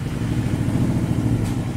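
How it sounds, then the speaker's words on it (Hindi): An Indian motorcycle fitted with a Valvetronic exhaust, valves closed, runs at a steady low idle with a continuous deep engine rumble, close and fairly loud, with no voices over it. "चलो तो अपने अच्छे अच्छे हाथों से जरा बाइक को स्टार्ट कर दो, दोनों वॉल्व सभी बंद हैं।"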